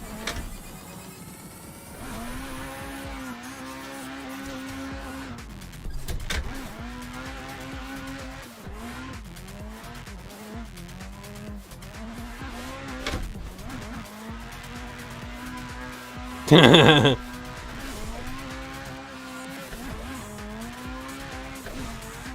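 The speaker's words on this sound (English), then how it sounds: "Another jump drift" Car drifting in a racing video game, with a sustained engine drone that rises and falls through gear shifts and a brief sharp tire squeal late on, steady and loud throughout.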